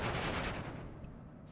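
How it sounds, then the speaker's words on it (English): Rapid, dense MG42 and MG34 machine gun fire from German paratroopers in the World War II strategy game Steel Division 2, a loud continuous rattling burst that fades slightly toward the end. "As our Fallschirmjaeger engaged with MG42s and a twin"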